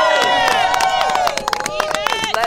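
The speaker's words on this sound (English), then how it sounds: "Just give a round of applause for the Congresswoman." Crowd at a public gathering welcoming a congresswoman breaks into loud, dense clapping and cheering close by, with shouts and voices mixed into the sustained applause throughout.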